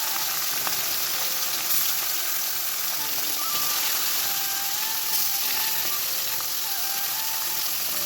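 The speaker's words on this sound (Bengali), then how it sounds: "তো দেখো, আগে মাছটাই ভেজে নেব।" Fish frying in hot oil in a home kitchen, a steady broadband sizzle running throughout with faint clinks and scrapes of utensils on the pan, close and continuous.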